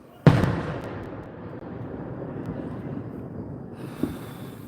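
Fireworks bursting far off: one sharp boom opens, trailed by a long rumbling rolling echo, with a second fainter pop near the end, distant and outdoors with no talk.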